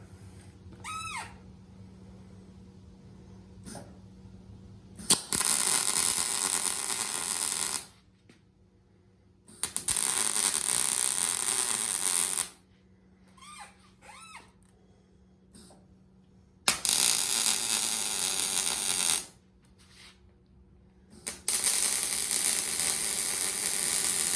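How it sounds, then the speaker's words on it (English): Bolts being welded to the back of a metal plate: four loud, sustained crackling bursts of several seconds each, separated by quiet pauses with faint clicks and handling noise. "I'm going to weld the backside of the bolts"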